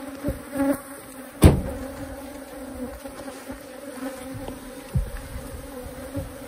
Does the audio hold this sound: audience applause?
no